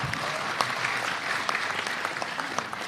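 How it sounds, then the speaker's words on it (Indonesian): An audience claps for the regent at a gathering, steady dense applause with sharper individual claps standing out, sustained throughout at moderate loudness. "Aplaus untuk Pak Bupati"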